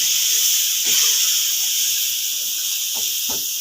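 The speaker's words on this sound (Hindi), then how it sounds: "अब इसमें तकरीबन 2 गिलास के बराबर जो है वो हम दूध डालेंगे।" Milk poured into a hot pan of roasted semolina for walnut halwa sizzles with a loud, steady broadband hiss throughout, with a few soft low knocks underneath.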